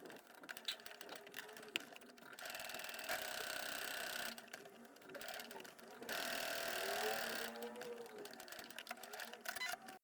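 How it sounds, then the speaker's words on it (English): A sewing machine runs in two sustained bursts of rapid stitching, close and clear, with quieter clicks and handling noises around them. "head over to your sewing machine and stitch all the way around the rectangle."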